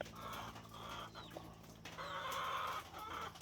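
Chickens in a cemented chicken house cluck and call faintly, a few short squawks rising over low steady background hum.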